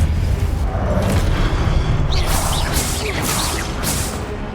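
Spell effects for Confringo and Expelliarmus in the Hogwarts Legacy video game: loud, dense magical booms and whooshing blasts with crashing impacts, sustained across the whole stretch with a few bright swishes near the end.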